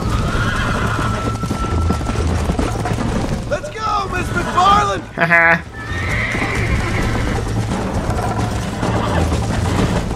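Horses in Red Dead Redemption gallop with steady clip-clop hoofbeats and let out a loud whinny midway, with someone talking over the riding.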